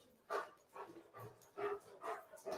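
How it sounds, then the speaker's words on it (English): Several dogs on a rural homestead bark in short, spaced bursts of about five or six yaps, fairly faint and at some distance, with no talk over them. "now the dogs are going."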